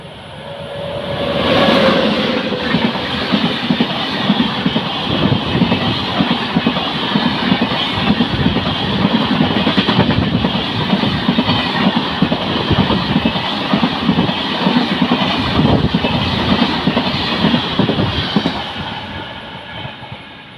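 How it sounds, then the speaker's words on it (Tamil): A train arriving at Bekal Fort Railway Station in Kerala rumbles past loud and close, a steady rolling clatter of wheels that swells in and fades near the end. "இதோ ஏதோ ஒரு ட்ரெயின் வேறு வருது இங்கே"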